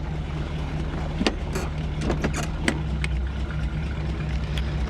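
A 1967 Buick Riviera engine idles with a low, steady rumble, accompanied by a few brief clicks and knocks nearby.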